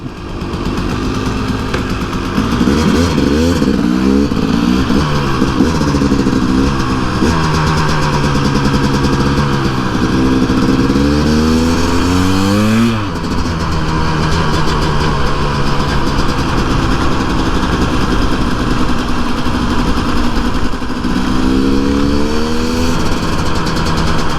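A KTM two-stroke dirt bike ridden on a street, its engine revving up and down in loud, continuous sweeps with rising and falling pitch, close by and with no talking.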